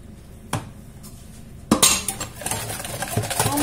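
Oil poured into a mixing bowl for a lemon cake batter and stirred, with a couple of sharp utensil clinks against the bowl followed by a busy run of close clattering and scraping.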